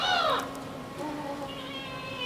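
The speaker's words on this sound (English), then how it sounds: "Here are some cats from the graveyard." Recorded cats meowing as a sound effect from the graveyard scene of Disney's Haunted Mansion attraction, with two or three drawn-out meows, the first loud and falling, a later one thinner and sustained, over a faint ambient hum.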